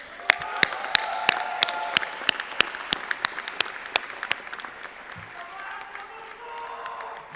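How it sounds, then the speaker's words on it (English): Graduates at the Texas A&M University at Qatar 2017 commencement ceremony applaud together, a full crowd of clapping with a few sharper claps standing out, gradually thinning toward the end. "Give yourselves a huge round of applause."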